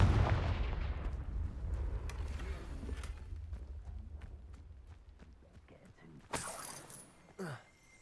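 A Confringo fire spell blasts in Hogwarts Legacy, a loud booming burst that decays into a rumbling tail, followed by lighter scattered game effects and a sharp swoosh near the end.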